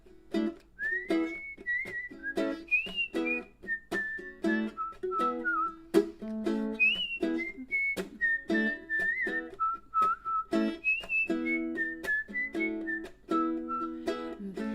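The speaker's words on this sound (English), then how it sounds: "Penny whistle solo." A penny whistle plays a solo melody of bright, sliding sustained notes that rise and fall, set over a steady rhythmic backing beat and running continuously throughout.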